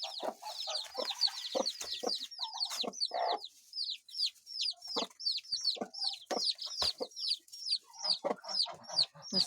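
Broody hen with her chicks clucking in a steady run of short repeated calls, with dense high chick peeps throughout, close and continuous at a morning poultry feeding.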